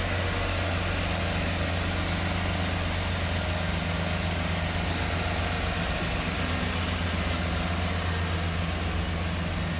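A 1992 Chevrolet Camaro RS 25th Anniversary coupe with a 305 cubic inch 5.0 liter V8 idles steadily, a close, continuous low rumble with an even, unchanging drone.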